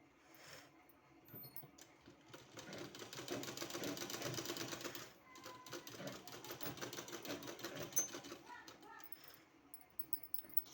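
A sewing machine stitches along the buckram edge of a sleeve in two sustained, fairly quiet runs with a brief pause between, followed by a few scattered clicks.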